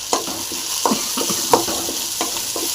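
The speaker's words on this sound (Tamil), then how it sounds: "இதையும் ஒரு 2 நிமிஷம் நல்லா ஃப்ரை ஆகட்டும்." Tomato, black pepper, cumin and fennel fry in a pan under a loud, steady sizzle, with several clinking stirring strokes close by and no talking.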